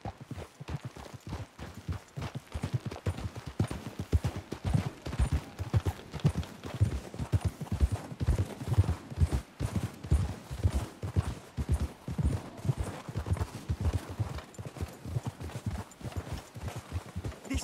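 Horses walk along a path in the video game Red Dead Redemption 2, and their hooves keep up a steady, continuous clip-clop at moderate volume with no talk over it.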